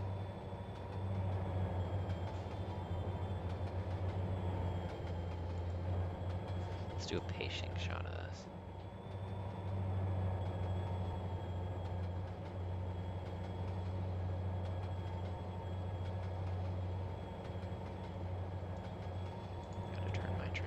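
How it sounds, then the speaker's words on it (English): An SD80MAC locomotive hauls a coal train at track speed, a loud continuous low rumble and rolling rail roar with a brief squeal partway through, while someone briefly speaks nearby. "SD80 max on this coal train. They are making track speed."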